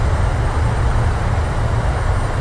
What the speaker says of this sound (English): And reversers are active.